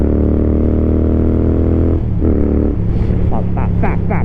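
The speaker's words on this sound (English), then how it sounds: "I don't remember my bike sounding this grunty" A grunty motorcycle engine runs steadily with a deep, throbbing low rumble, close and loud; partway through the pitch dips and shifts as the revs change, with some rushing wind noise over it.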